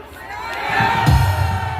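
A crowd at a political rally cheers and shouts, a brief swell of voices that rises sharply partway through over the loud hum of a public address system.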